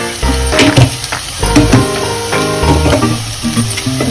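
Masala sweet corn tossed and stirred in a pan, close and fairly loud, with irregular scraping and rattling bursts of kernels over a soft sizzle, no voices heard.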